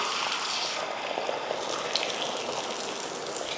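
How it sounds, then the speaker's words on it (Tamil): Beaten egg poured onto a hot oiled dosa pan (tawa) for an omelette, giving a steady close hiss and sizzle that holds evenly throughout with no pause. "ஆம்லேட் போடுறதுக்கு ஒரு தோசைக்கல் வச்சு அதில் எண்ணெய் ஊற்றிடலாம் இப்போ கலந்த முட்டையை ஊற்றிடலாம்"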